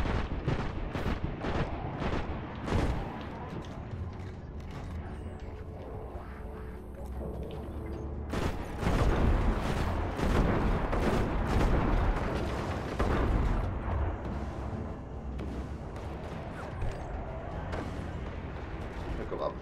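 Explosions in Destiny: Rise of Iron gameplay: loud broadband blasts, with the biggest hit around the middle, surrounded by dense gunfire and combat noise. A voice may be present in the mix.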